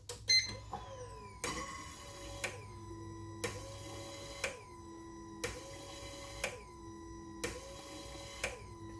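Repeated mechanical bursts: Bosch EV14 fuel injectors flushing on a test rail, a hissing spray starting and cutting off with a click roughly once a second, over a faint electric hum, no talking.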